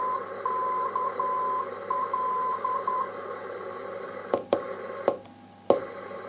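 Steady radio static hiss on a VOR navigation receiver in a DC-9 cockpit audio panel, with a repeating Morse code identifier beep, followed by several sharp clicks and crackles.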